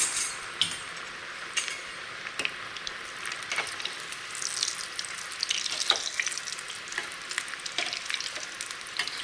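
Steady crackling sizzle of onion fritters (bhaji) deep-frying in hot oil in a kadhai over a low flame, with scattered pops and an occasional light clink, no voices.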